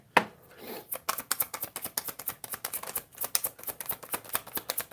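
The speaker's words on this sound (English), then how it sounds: "I'm just going to start pulling cards for you." Tarot cards pulled and shuffled from a deck, a dense run of quick papery flicks and taps at close range, fairly soft and rapid, with no voice over them.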